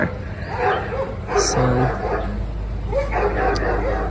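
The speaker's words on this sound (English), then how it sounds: "the neighbor's dogs are barking again" Neighbor's dogs bark and yip intermittently in the background of an outdoor yard, with a voice talking briefly over steady ambient noise.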